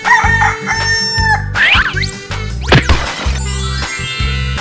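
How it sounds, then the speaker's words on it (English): A rooster crows loudly up close with a drawn-out cock-a-doodle-doo, surrounded by repeated short rhythmic clucking-like pulses and electronic tones, with no talk. "Chicken."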